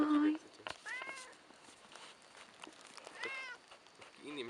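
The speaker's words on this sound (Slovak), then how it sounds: "Kocúrča. Mau." A young tomcat meows several times, with short plaintive cries spaced a second or two apart and heard up close.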